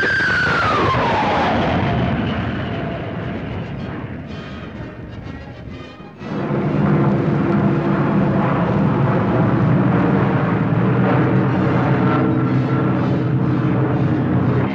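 An Avro 707B delta-wing jet aircraft passes with a loud turbine whine that falls in pitch. It eases off briefly, then becomes a steady, powerful roar.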